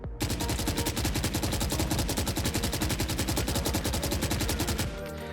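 Rapid automatic fire from the Phantom rifle in Valorant, a dense, steady burst of shots lasting about five seconds, loud and continuous before cutting off, with no talking.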